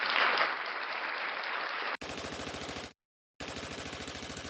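A gunshot sound effect played during a podcast: a sustained burst of dense noise, then rapid repeated firing like a machine gun, a short silence, and another burst of rapid shots, loud and alone.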